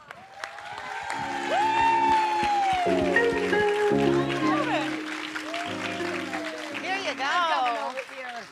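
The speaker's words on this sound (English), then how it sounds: "please give a nice big round of applause for Jess and JoJo" An audience at a Hollywood dance event claps and cheers as two performers are welcomed. High whoops, whistles and excited voices ride over a steady patter of clapping throughout.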